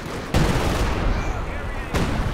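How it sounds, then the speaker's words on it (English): Heavy artillery barrages in the real-time strategy game Company of Heroes 2 pound a trench: loud booming blasts with rumbling decay, two distinct impacts about a second and a half apart, while a commentator talks. "Major artillery clearing out the trench."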